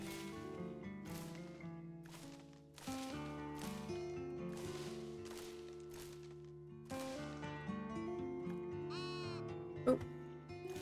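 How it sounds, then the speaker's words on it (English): Sheep in the cozy building game Tiny Glade bleat repeatedly, a series of soft, wavering calls spaced a second or two apart over a gentle musical backdrop, with no talking. "sorry sheep, I didn't mean to plant a tree on your head"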